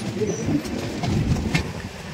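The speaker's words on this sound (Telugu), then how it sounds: "ఈ ట్రైన్ చాలా కంఫర్ట్గా ఎక్కడ డిలే లేకుండా నడుస్తుందని చెప్పచ్చు" Garib Rath Express AC train running between Secunderabad and Vizag, a steady low rumble of the moving coaches with faint clicks and rattles on top.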